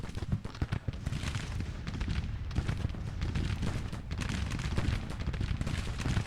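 Artillery cannon and massed gunfire in Grand Tactician: The Civil War, a dense, continuous rumble of overlapping booms and crackling shots with no clear gaps, steady and loud throughout.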